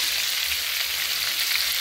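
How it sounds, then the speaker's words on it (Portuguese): Pacu and tilapia fish fry in hot oil with a dense, steady sizzle and crackle close up, continuous throughout with no talking. "Fritando."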